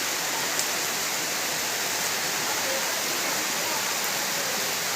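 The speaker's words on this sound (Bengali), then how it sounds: "এই ফাল্গুন মাসে বৃষ্টি হচ্ছে দেখো" Steady broadband hiss of rain falling in a Bengali village, even and continuous throughout, with no clear individual drops and no voices.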